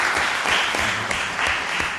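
An audience at a justice event in a Cosenza court library applauds a criminal bar association, a dense, close patter of clapping that stays steady throughout.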